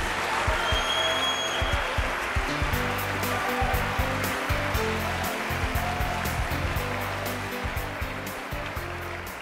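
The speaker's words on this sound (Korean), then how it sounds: "뜨겁게 박수로 모시겠습니다." An audience applauding to welcome a lecturer onto the stage at an economics talk: dense, continuous clapping that fills the room, steady throughout and easing slightly toward the end.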